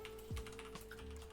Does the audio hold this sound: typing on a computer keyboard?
yes